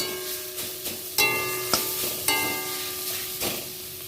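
Greens (shaak) being stirred and fried in a pan, a soft continuous sizzle broken by several scraping strokes of a spatula, with a faint steady tone underneath.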